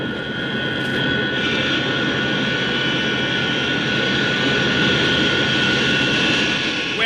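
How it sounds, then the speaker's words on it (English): Spacecraft retrojets fire to slow a ship for a Moon landing in a 1959 television serial, giving a loud, steady jet-like roar with a constant hissing whine that swells slightly and never lets up. "The jets are about to fire. Prepare for de-acceleration."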